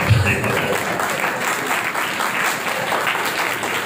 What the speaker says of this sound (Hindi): ये कोई ताली मारने वाली गल है?